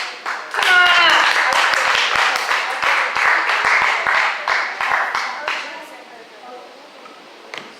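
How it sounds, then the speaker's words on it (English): An audience at a comedy festival show at Pineapple Jack's claps and applauds for comedian Antonio, a loud, dense burst of clapping that swells quickly, holds, then thins out and fades near the end. "give a great big love and great big claps for our next comic, Antonio"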